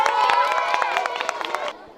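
An audience at a school event in Nagpur claps and cheers for students. The sharp claps are loud and close, mixed with crowd noise and tonal music, and end abruptly near the close.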